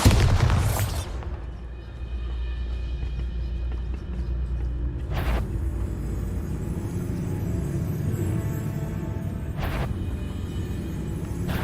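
A Bombarda explosion spell from Hogwarts Legacy bursts with a loud, near blast in the opening second, then settles into a low rumbling bed broken by two more sharp bursts midway and near the end.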